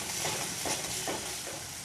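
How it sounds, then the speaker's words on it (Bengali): Ginger paste sizzles steadily in hot oil while ghugni is being made, a constant crackling hiss with a few soft stirring scrapes, close and unaccompanied by talk. "এবারে এই তেলের ওপরেই আমি 1 চামচ আদা বাটা দিয়ে দিলাম।"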